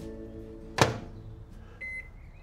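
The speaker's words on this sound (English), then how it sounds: "I'm doing these poached eggs in a cup in the microwave." A microwave oven poaching eggs in a cup hums steadily, then a loud door clunk is followed by a short electronic beep, all fairly quiet and close.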